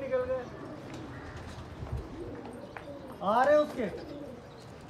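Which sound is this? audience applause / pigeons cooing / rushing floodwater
pigeons cooing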